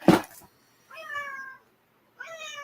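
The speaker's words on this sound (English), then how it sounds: "That's Charlie, her cat's trying to go across my laptop." A house cat meows near a laptop indoors: a soft thump, then two clear, drawn-out meows close by, with pauses between them.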